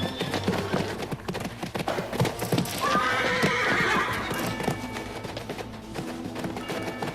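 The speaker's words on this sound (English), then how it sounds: "unrest breaks out among the horses." African wild horses whinny loudly and repeatedly over a busy clatter of hooves amid unrest around a mare in estrus, with one long, shrill neigh rising clearly in the middle.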